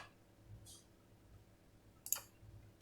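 Two quick, quiet mouse clicks on a computer while sorting an Excel pivot table, spaced about a second and a half apart, set against a near-silent background.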